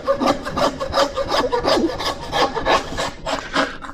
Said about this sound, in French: un coup de scie.